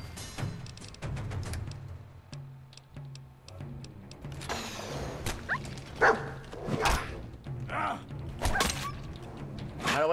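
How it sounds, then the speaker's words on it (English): An attack dog in Fallout 4 barks and growls in several sharp bursts amid combat noises and thuds, moderately loud in the game mix. "stupid attack dog."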